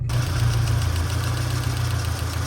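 A warmed-up 1991 SAAB 900 Carlsson engine idles steadily and close by, a low even rumble with a faint rhythmic pulse and no voices over it.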